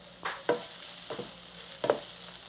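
Tofu soboro being mixed in a pan with sesame oil, a soft sizzle under a few distinct spatula scrapes and stirs, close and fairly quiet with no voices.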